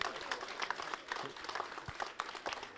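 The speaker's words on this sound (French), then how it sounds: "On peut continuer à les applaudir" Audience applause for the prizewinners at a croquembouche pastry competition, scattered clapping from a modest crowd with a few distinct claps standing out, at moderate distance.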